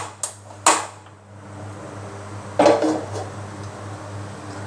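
A couple of metallic clanks as a frying pan is set down on a gas stove, then another clatter, over a steady low hum.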